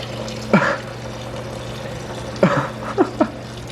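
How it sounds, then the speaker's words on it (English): Engine oil mixed with E85 fuel drains from a flooded motor, a steady gurgling stream broken by a few louder splashy glugs, close and fairly loud. "we're draining the oil right before you get this motor pulled, and it is dumping E85"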